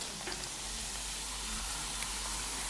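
Quiet, steady sizzling of khvorost dough strips frying in hot oil on high heat, a soft continuous crackle with a low hum underneath and no voices.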